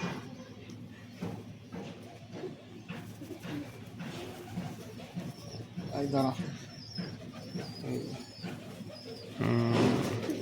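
Pigeons, including a male, coo softly in low, throaty rolls amid background chatter and ambient noise, with a louder burst of cooing near the end.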